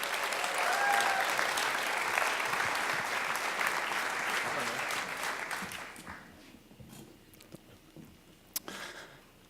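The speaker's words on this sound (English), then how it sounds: "Let's hear it for Keith, everybody" An audience at a Moth Grand Slam storytelling event applauds warmly for the next storyteller, a dense sustained clapping that fades out over several seconds into scattered last claps.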